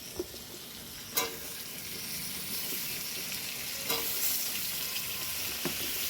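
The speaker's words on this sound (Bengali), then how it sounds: "এবার আলুগুলো দিয়ে দেবো।" Potatoes sizzle in hot oil in a pan with already-fried pointed gourd, a steady close hiss broken by a few sharp scrapes of a spoon stirring.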